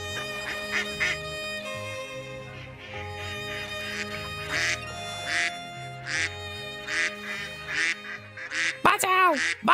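Cartoon ducks quack in a repeated, rhythmic run over a steady backing score, the calls clear and fairly loud, with a rising cartoon squawk near the end.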